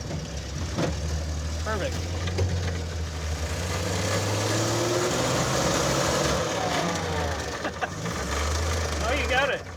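An AMC Pacer off-road car with no clutch pedal starts in gear, its engine settling into a rough, steady idle with a low rumble, while several people talk over it.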